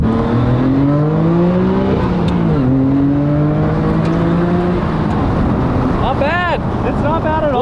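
Nissan Skyline R33 GTR engine loud and close from inside the car, revving up through rising harmonic sweeps, dropping briefly at a shift near the third second, then climbing again, with steady wind and road roar throughout.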